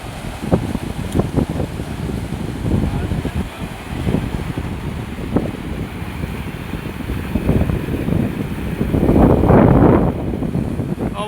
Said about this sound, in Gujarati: અવાજ આવવા, પવન આવવાને કારણે મારો અવાજ તમને બહુ ઓછો સંભળાશે